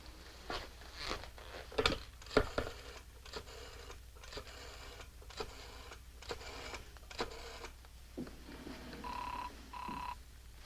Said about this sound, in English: why don't you phone Willie's office and ask for Mr. Templar?